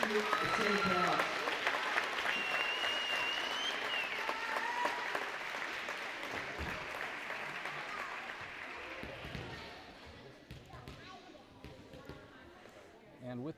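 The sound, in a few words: audience applause at a volleyball game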